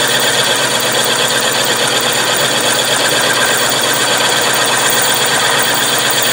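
A Grizzly mill spindle on power feed cuts metal, giving a dense, constant, loud grinding whir with a steady machine hum throughout and no pauses or talk.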